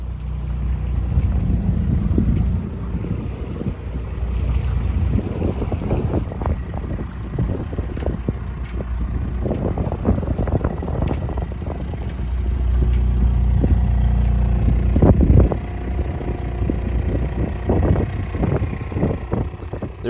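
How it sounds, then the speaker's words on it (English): A 15-foot sailboat with sails down motors into Princess Louisa Inlet, its steady low engine drone mixing with water wash and wind buffeting on the microphone, fairly loud throughout with no talking. "we took the sails down and started motoring in"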